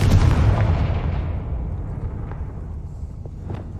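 Confringo fire spell blasting in the video game Hogwarts Legacy: a loud, deep boom with a burst of crackle that slowly rumbles away, with a couple of faint pops near the end.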